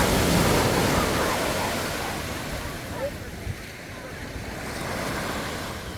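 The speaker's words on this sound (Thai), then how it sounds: "ดูเขากระโดดกันค่ะคลื่นก็ตบเอาอะค่ะ" Strong sea waves crash onto a beach with clear water, a loud, continuous roar of surf and wind noise that gradually eases.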